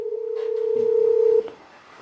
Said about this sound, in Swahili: Unasikia simu zingine zinapigwa hapa na pale,